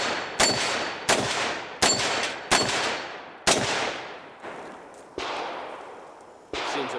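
A handgun revolver is fired repeatedly, about nine sharp loud shots at uneven intervals, each a hard crack followed by a ringing decay, with no talk between them.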